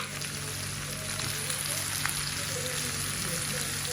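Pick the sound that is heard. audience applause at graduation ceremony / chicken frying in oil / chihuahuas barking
chicken frying in oil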